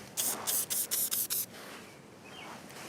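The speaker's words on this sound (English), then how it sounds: "you're going to want to grab the Real Magic and you're going to want to spray every single eyelid" Six quick hissing bursts of Reel Magic cleaner sprayed onto fishing rod guides, evenly spaced and close, followed by quiet.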